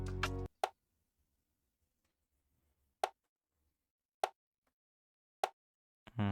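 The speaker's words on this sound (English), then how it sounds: "I have a conga, right? A conga. This is how it sound like." Conga drum sample in an FL Studio afrobeat beat, sounding as a few sparse, sharp hand-drum hits spaced about a second apart, dry and isolated between brief bursts of other sound at the start and end.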